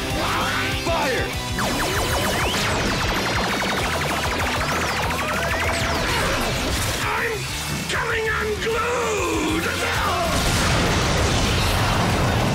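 A revolving laser blaster fires during a Power Rangers Megazord battle, giving a loud, dense stream of booming blasts, sweeping zaps and mechanical clatter that runs without a break.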